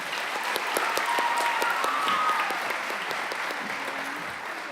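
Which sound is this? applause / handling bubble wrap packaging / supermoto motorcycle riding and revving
applause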